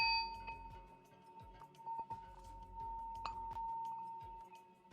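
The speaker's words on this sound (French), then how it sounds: "je lève comme à mon habitude la séance avec 3 petits sons de gong" Small gong tones close a hatha yoga session, a faint, sustained metallic ring lingering with a couple of soft struck accents in a quiet room.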